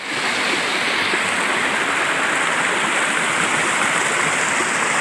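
Water rushes steadily at the Bileshwar Mahadev temple site, a loud, continuous broadband roar like a stream or small waterfall that holds constant throughout with no voices.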